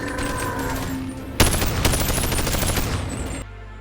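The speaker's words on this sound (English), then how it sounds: "the noise of the Mark 18 Saber Lake just sounds horrible" Mark 18 assault rifle from the VR game BONELAB fires a sustained, loud burst of rapid automatic shots, with a sharp onset partway through and an abrupt cutoff near the end.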